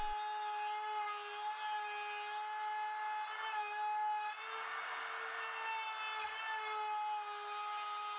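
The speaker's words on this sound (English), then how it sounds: "Then I can set my router bit to the depth of the cut I've just made with the saw and remove the rest of the waste with that." A router cuts away the waste wood left after a saw cut at set depth, giving a steady high-pitched whine with rough, grinding cutting noise that carries on without pause.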